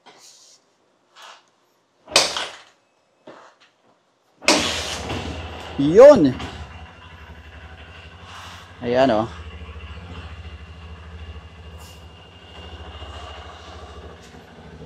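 Honda CRF150L motorcycle engine kicked over and catching, then settling into a steady low idle with a couple of revving bursts, close by, with brief talk over it.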